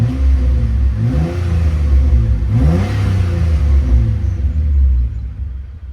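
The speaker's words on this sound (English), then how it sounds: "I'll give it some revs though." A car with a DIY electric exhaust cutout valve held open revs twice, the deep, bassy engine note rising and falling in two pulls, loud and close, then settling back toward idle.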